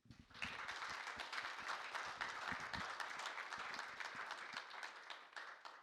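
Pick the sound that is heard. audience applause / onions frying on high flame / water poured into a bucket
audience applause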